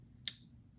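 A single sharp metallic click as a folding knife's frame lock snaps shut, close and brief against near silence.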